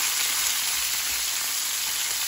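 Pork chop frying in hot oil, a dense, even sizzle and crackle close up that stays steady and unbroken throughout, with no voices.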